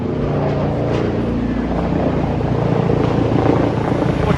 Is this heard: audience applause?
no